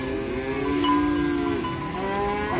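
Simmental cattle mooing at a morning livestock market in Muntilan: one long, loud, sustained low moo that wavers in pitch, close by, with no talk over it.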